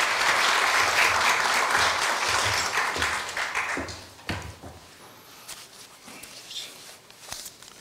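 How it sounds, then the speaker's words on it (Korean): Big applause from an audience at a Korea University staff retirement ceremony, welcoming a retiring department head; dense, loud clapping for about four seconds, then thinning into scattered claps and shuffles. "오영길 부장님을 큰 박수로 맞이하여 주시기 바랍니다."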